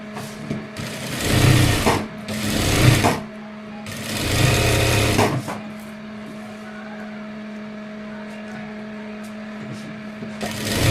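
An electric sewing machine stitches a lined blouse in bursts, three loud whirring runs of needle chatter separated by pauses where a steady low motor hum remains, close up.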